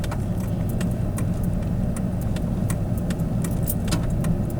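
A car on all-season tires climbs a steep, snowy winter logging road, its engine a steady, close, continuous drone mixed with rumbling road noise and a faint jingle of keys throughout.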